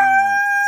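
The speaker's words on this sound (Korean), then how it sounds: "지금 이 소리는 알을 낳으려는 소리예요." Silkie hen calling before laying an egg, one short loud tonal cry with strong harmonics, close up, about a second long.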